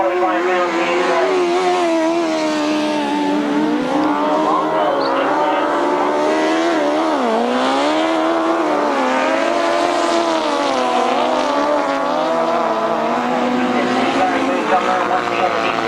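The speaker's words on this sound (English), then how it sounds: "as he flies past me into the last lap, it sounds so beautifully smooth, that engine that Gary Moon uses" A grasstrack racing motorcycle engine at a 1992 British Masters qualifier roars loudly and continuously, its pitch rising and falling smoothly as the bike flies past on the final lap.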